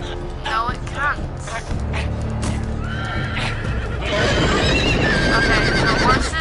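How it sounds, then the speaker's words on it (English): Horses in a Game of Thrones video game whinny repeatedly with rising and falling neighs over a low rumble, then hoofbeats and heavier commotion build toward the end; voices talk in the background. "Okay, the horses are coming."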